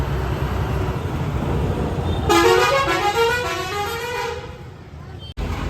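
Travel buses and other vehicles creep slowly through heavy traffic at Gayatri in Nana Varachha, under a constant loud engine rumble, while a bus sounds a long, tuneful multi-tone horn for about two seconds midway, with faint voices beneath.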